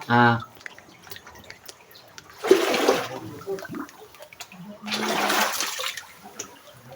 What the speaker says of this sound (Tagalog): Kusog kayong daloy sa tubig mga katanski oh.